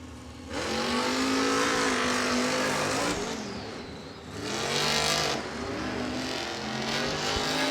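Monster trucks race head to head on a dirt track inside a football stadium, engines roaring loud and steady with revving swells and a brief dip midway, crowd and arena noise underneath.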